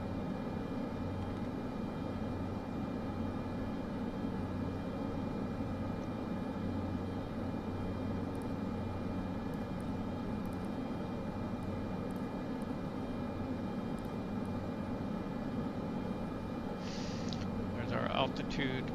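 A Cessna C208B on a medevac flight in Microsoft Flight Simulator 2024 gives a continuous, even engine drone in cruise, steady and unbroken throughout, with a few faint clicks and a brief extra rustle near the end.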